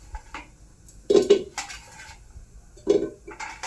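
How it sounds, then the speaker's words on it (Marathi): Potatoes are dropped into a metal pressure cooker in a home kitchen, a few clanking knocks and thuds against the pot with quiet handling sounds in between. "आपण कुकर मध्ये बटाटो घेतली ती, आता पाणी घेऊया त्यात"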